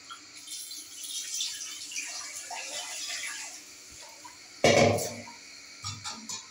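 Water pours into a pressure cooker in a home kitchen while rice is being cooked, a soft steady trickle over the first seconds followed by a louder splash burst and a few brief clatters near the end.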